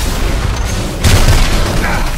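Gunfire aimed at a monster in the video game Evolve, a loud dense booming burst that swells partway through and stays heavy and continuous to the end.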